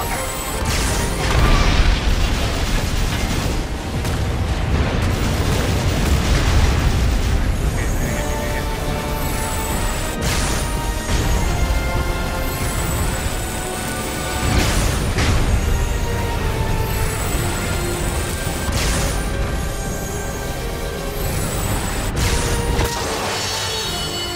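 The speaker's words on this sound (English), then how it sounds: "The cannon is back in action." Loud cannon blasts boom every few seconds in the video game Granblue Fantasy Relink, over dense, continuous game noise and clatter, with no voices.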